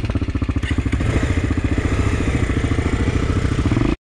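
A Hartford 250 motorcycle engine putters with a steady, rhythmic throb, loud and close, as it rides along a narrow, broken path.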